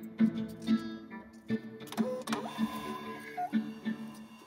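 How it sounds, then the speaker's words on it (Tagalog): A Flashlabel A318 A7 thermal printer prints a shipping waybill with repeated short mechanical ticks and whirs, plus a brief higher motor whine partway through; close and moderately loud, with no talking. "palitan natin sa color tapos pwede na tayo mag-click ng print"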